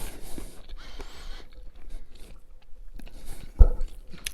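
Bites and chews into a crunchy southern fried chicken sandwich, with a few soft crunches and a sharper loud crunch near the end, close up and without talk.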